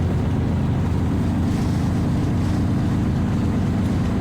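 A 1970 VW Beetle cruises in fourth gear at highway speed, heard from inside as a loud, unbroken low engine drone mixed with rushing wind and an air draft, steady from start to finish.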